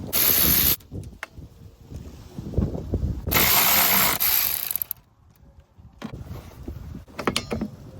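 Ratchet wrench loosening the 13 mm wiper arm nuts on a Volkswagen Jetta GLI MK6, heard as short bursts of close mechanical clicking separated by pauses, with no talking.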